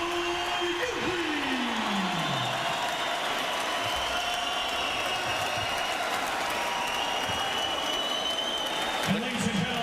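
Arena crowd at a heavyweight boxing match in the King's Hall, Belfast, applauding steadily and loudly for the full stretch, a dense wash of clapping with a voice over the public address speaking through it.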